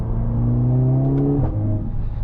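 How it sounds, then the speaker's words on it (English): A 2025 Mercedes-AMG A45S facelift hot hatch revs up with a steady, rising engine drone, then upshifts with a sharp exhaust pop before the engine note settles lower. The sound is close and loud throughout. "And these exhaust pops, this is rewarding when you upshift."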